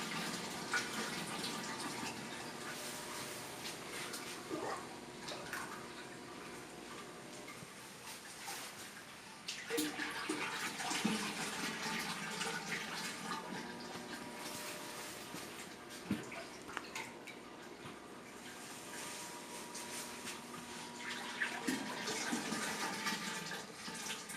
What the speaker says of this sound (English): Just keep adding syrup